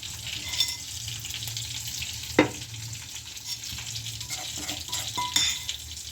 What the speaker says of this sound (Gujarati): વઘાર કરી નાખ્યું છે। હવે આપણે લાલ મરચું નાખીશું, જે લસણવાળું છે।